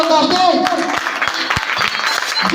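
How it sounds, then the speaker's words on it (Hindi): Brief burst of audience applause with scattered claps, mixed with other crowd noise. "जोरदार ताली"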